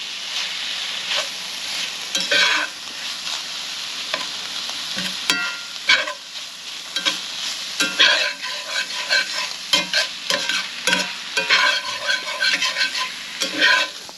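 A deer heart pie filling cooks in a pan with a continuous close sizzle and frequent spatula stirring scrapes and knocks, steady over the whole stretch, with no talking.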